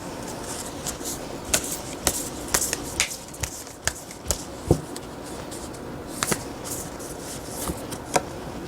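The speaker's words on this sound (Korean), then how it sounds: "다음은 여러분들을 위한 7월 달의 좋은 카드를 뽑아보도록 하겠습니다" Tarot cards are shuffled and drawn by hand, giving a run of crisp riffles, slaps and papery flicks in an irregular rhythm, close and fairly clear, with no talk.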